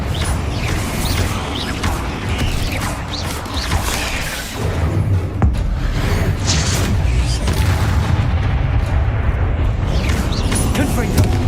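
Blasting spell explosions in a wizarding action video game, heavy booming bursts and crashes that run continuously for several seconds, loud and dense with whooshing debris, with a voice casting spells over the top.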